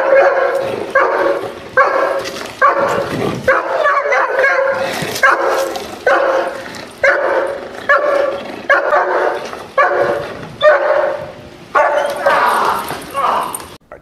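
A Rottweiler barking repeatedly during guard training, loud, close and rhythmic with about a dozen sharp barks.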